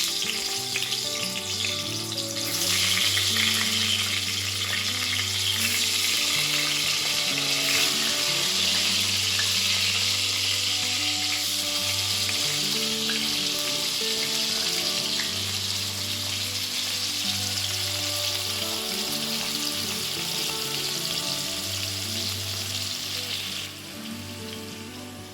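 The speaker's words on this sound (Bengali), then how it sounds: "চলো বেগুন ভাজাটা বসাই" Eggplant slices frying in a home kitchen pan, a steady, fairly quiet sizzle with low bubbling crackle that runs unbroken for about twenty-five seconds and eases slightly near the end, with no speech.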